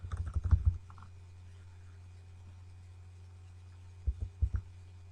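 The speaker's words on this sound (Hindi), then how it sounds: "मैं अब एरो क्लिक करता जा रहा हूँ" An arrow key on a computer keyboard is pressed repeatedly, a quick run of close, soft clicks at the start, then a quiet gap with low hum, then a few more clicks near the end.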